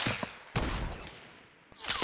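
Gunfire in the battle royale game Fortnite: a few sharp shots with bursts of crackling noise between them, moderately loud, then a fresh burst near the end, with no talk over it.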